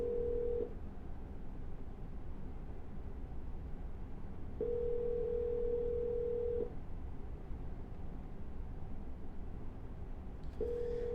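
Telephone ringback tone on an outgoing cold call, with steady tone bursts at regular intervals over faint background hiss and no talking.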